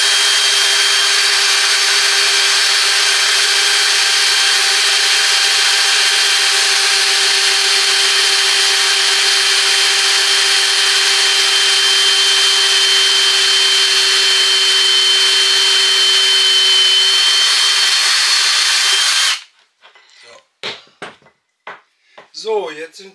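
A power drill pre-drills holes in wood while enlarging a table, a loud, close, continuous whining drone for about nineteen seconds that cuts off abruptly, followed by a few sharp handling clicks.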